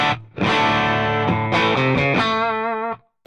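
An electric guitar plays sustained clean chords through a Deluxe Reverb amp, loud and full with a ringing tail, then stops abruptly.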